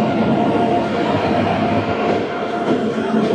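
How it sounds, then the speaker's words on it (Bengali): Farakka Express passenger train rolling into an Indian station, a loud continuous rumble of wheels and carriages with faint rhythmic clatter, close by and without talk. "বালুরঘাট থেকে ভাতিন্ডা নিন, চলে এসছে ফারাক্কা এক্সপ্রেস।"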